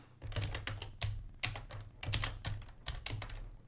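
Close, crisp keystrokes on a computer keyboard come in quick irregular runs with short pauses between words, with no one speaking.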